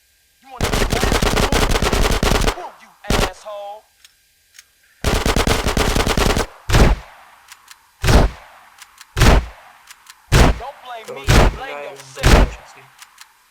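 Gunfire in GTA San Andreas, with long sustained machine-gun bursts followed by a series of single sharp shots at irregular intervals, loud and close, with some brief voice sounds in between.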